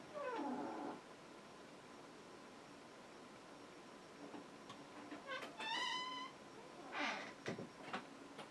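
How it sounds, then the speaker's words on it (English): A pet cat gives a few short meows around a quiet indoor room, separated by long pauses, with one sharper, higher call near the middle and a couple of faint mews toward the end. "Thought I heard something. Probably just our cat."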